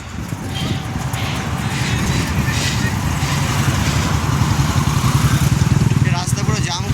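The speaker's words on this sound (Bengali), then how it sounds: "এখানে এত বাইক কিসের, অনেক বাইক আছে এখানে" Many motorbikes crowd a jammed highway near Kalyani, their engines blending into a continuous close rumble, with people talking over the traffic.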